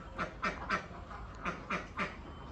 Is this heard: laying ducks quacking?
yes